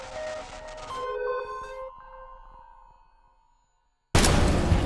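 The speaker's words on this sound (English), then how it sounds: "Lights, power, perfect sine wave coming back to us," Steady tone fed through a Mackie 3204VLZ4 analog mixer, a clear sustained pitch with harmonics that fades gradually over several seconds, then a sudden loud burst of broadband noise cuts in at the end.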